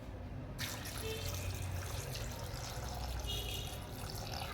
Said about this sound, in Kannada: ಈಗ ಅದು ಮುಳುಗೋಷ್ಟು ನೀರು ಹಾಕೋಣ.